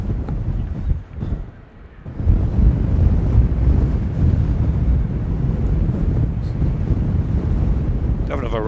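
Strong wind buffets the microphone at Manchester Airport, a loud continuous low roar that dips briefly before surging back and holding steady, with a voice partly under it.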